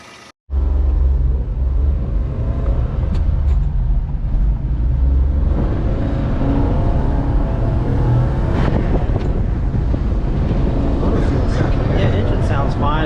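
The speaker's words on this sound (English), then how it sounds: "Yeah, engine sounds fine." Honda Acty 4WD kei truck engine running close by, a steady droning hum that starts abruptly after a brief lull and holds evenly throughout.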